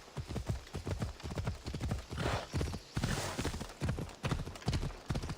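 Horse hooves clip-clop in Assassin's Creed Odyssey, a steady galloping rhythm of close, loud hoofbeats that goes on throughout.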